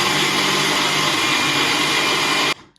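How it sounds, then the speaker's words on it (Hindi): A kitchen mixer grinder whirring at full speed as it grinds roasted sesame seeds, a loud steady motorized buzz that cuts off abruptly near the end, leaving a faint rattle. "मैंने कहा कि कैसे मिक्सी चलाती है तू"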